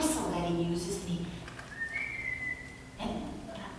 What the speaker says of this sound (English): He has kind of a special whistle that he uses.